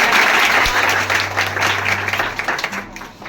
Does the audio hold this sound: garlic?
no